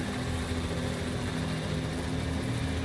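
Steady whirring rotor drone of a flying drone in the video game Watch Dogs: Legion, a constant close mechanical hum with a tonal buzz that holds evenly throughout.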